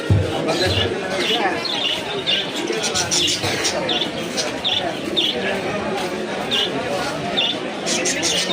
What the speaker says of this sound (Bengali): কবুতর আছে এখানে